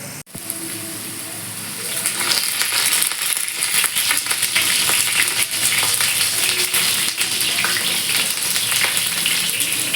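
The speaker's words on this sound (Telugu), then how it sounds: "వీటిని ఏంటంటే ఒక సైడ్ వేగిపోయిన తర్వాత మళ్ళీ టర్న్ చేసి వేపేసుకున్నాము" Bitter gourd pieces fry in a pan with a loud, steady sizzle and crackle that swells after a quiet start and holds dense and close throughout, with occasional light clinks of stirring and no voices.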